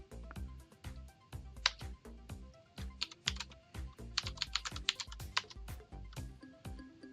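Rapid, close finger strikes on a computer keyboard click in quick irregular bursts, crisp and fairly quiet, with no voices over them.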